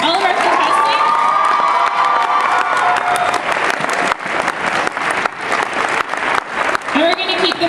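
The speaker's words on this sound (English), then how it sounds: "if we can have one more huge round of applause for all of our contestants." A convention audience gives loud applause and cheering for cosplay contestants at Katsucon 2014's World Cosplay Summit qualifiers, with a dense clapping roar, whoops and shouts, and a voice speaking over the start.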